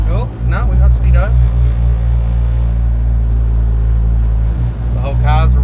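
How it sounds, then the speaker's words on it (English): Loud, steady low engine rumble from inside a Honda CR-V with a K-series engine swap and custom exhaust, with a constant rattling drone and a few brief voices speaking over it. "The whole car's rattling to shit."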